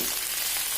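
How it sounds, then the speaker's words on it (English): Okra pieces, cut into fairly large chunks for garlic bhindi do pyaza, fry in hot oil with a steady, dense sizzle and faint stirring, heard up close for a brief moment. "I'm going to fry it up till the bindi is about"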